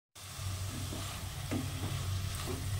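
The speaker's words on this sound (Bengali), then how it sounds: "মাশরুমটা একদম মশলার সঙ্গে ভাজা হয়ে গেছে।" White mushrooms fry with spices in a pan, making a close, steady sizzle with a low hum underneath and occasional soft scrapes of stirring, with no one talking.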